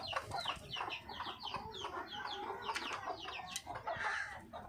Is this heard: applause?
no